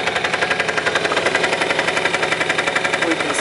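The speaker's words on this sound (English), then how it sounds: "revs are a bit higher than normal at the moment because it's got automatic choke and it's cold" Engine of a Honda X8R-S scooter idling fast on its automatic choke while cold, a steady close, even rattling putter with no voices.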